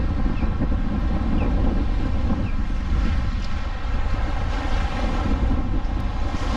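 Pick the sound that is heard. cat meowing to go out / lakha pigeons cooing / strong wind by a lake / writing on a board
strong wind by a lake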